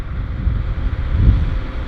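Wind buffets an outdoor tractor ploughing match on a cold day, a steady low roar with gusty swells across the whole stretch, no talk.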